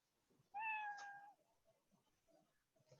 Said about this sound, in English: it will give a sound meow